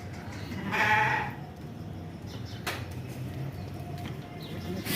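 Sheep and goats bleating at a livestock pen, with one clear, fairly close bleat early on, then fainter animal calls and farmyard murmur continuing in the background.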